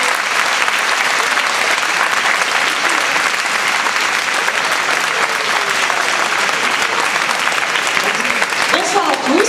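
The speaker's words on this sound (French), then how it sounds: "c'est ça, nous l'applaudissons." Sustained applause from an evening event audience, a dense and steady wash of many hands clapping that runs loud and unbroken throughout, with faint crowd sounds beneath.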